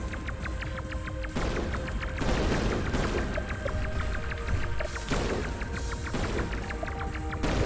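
Rapid bursts of gunfire and booming blasts from the video game Chronicle: Unit Eight, dense and continuous under a layered electronic music bed, loud throughout with no talking.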